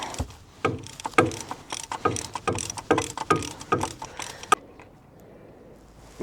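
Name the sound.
spanner tightening bolt on Toyota Hilux engine guard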